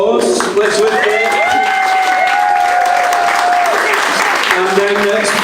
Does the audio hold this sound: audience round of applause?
yes